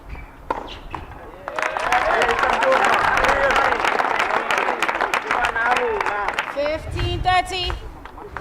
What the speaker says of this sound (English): Nice crowd in at the moment. Yeah, it's just getting a bit louder now.